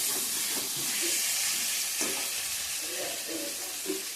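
Spiced meat curry in a pan sizzles steadily as water goes in, with a soft hiss and scattered scraping stir strokes throughout, close and moderately loud.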